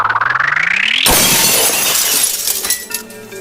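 A hammer smashes a glass screen: a rising whine gives way to a loud, sudden crash of shattering glass, followed by bright tinkling shards that scatter and settle over the next couple of seconds.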